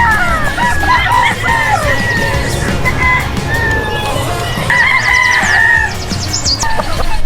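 Escoline White cross gamefowl roosters crow loudly and cluck at a backyard game farm. Overlapping calls repeat throughout, some close and some farther off, over a dense background of other birds.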